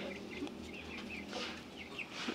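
A hen among five-month-old chickens clucks in short repeated calls while wanting to lay an egg, fairly quiet over a steady low background hum.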